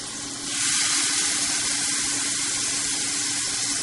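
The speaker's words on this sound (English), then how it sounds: "that nice searing noise that you pick up is exactly what we're listening for" Scallops sear in melted butter in a hot pan, giving a steady, close, bright sizzle that swells just after the start and holds evenly throughout with no talking.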